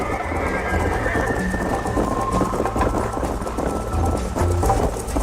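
Rhythmic hoofbeats of a galloping horse in Red Dead Redemption run steadily under busy game sound and music, loud and continuous.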